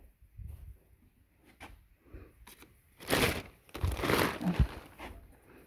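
A big plastic bag of rock wool insulation is cut open up close, giving quiet scattered rustles and then two louder stretches of crinkling and tearing plastic.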